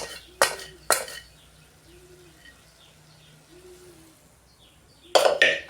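A pressure cooker used for popping grain is lifted off a gas stove in a farmhouse kitchen, with a couple of sharp metal clanks, a quiet gap with birds cooing faintly, then another loud clatter.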